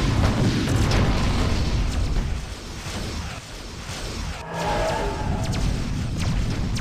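A destroyed battery target explodes in the space combat game Wing Commander: Prophecy, a dense rumbling blast that fills the clip with a sustained low roar and a brief dip before the boom swells again.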